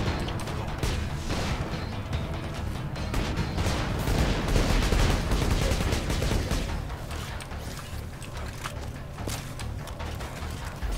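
Dense, continuous gunfire from the co-op shooter Borderlands 2, rapid overlapping shots and impacts sustained throughout with no pauses.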